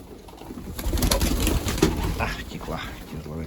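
Breeding pigeons coo in a low, rolling chorus close by, swelling in the middle with a rustle or two of feathers, while a voice talks over them.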